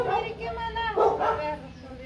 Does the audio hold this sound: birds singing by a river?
no